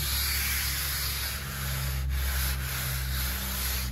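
Rhythmic rasping strokes of block sanding primer on a straight body panel of a Monte Carlo SS, close and steady with a low hum underneath, no speech.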